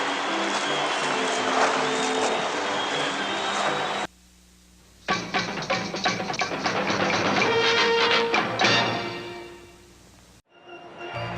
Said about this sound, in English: They're getting a good round of applause from their own booster club, who have traveled all the way from Charlestown to be here in Peterborough tonight.